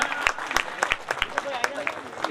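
An audience at a community student award ceremony claps for an honoured student. The applause is sparse and irregular, with scattered sharp claps rising and falling over a moderate background murmur.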